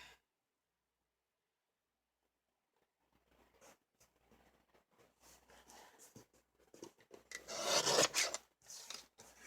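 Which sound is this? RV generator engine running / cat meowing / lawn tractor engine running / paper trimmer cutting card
paper trimmer cutting card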